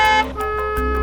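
Horn on an Ineos Grenadier 4x4 sounding a short toot with a steady harmonic tone, then cutting out and returning in brief blasts, loud and close, with no talk over it.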